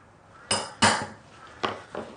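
Four sharp metallic taps, two quick ones then two more after a pause, a hard ringing clink of a metal punch struck close by to mark wood.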